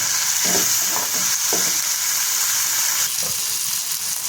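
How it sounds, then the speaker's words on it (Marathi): Tomato with ginger-garlic paste and a pinch of salt frying in a pan, giving a loud, steady close-up sizzle with a few soft stirring scrapes near the start. "एक टोमॅटो परतवून घेतलेला आहे थोडं मीठ टाकून घेऊया आणि करतायचं"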